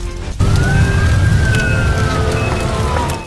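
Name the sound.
ambulance siren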